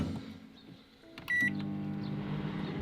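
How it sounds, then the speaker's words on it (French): A small microwave oven runs inside a car, a steady low electrical hum that gives way briefly to a short beep before the humming resumes, louder and close by. "Petit groupe, petit micro-ondes."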